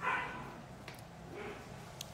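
A lively puppy gives a few short barks and yips at moderate distance, with quiet room sounds between them.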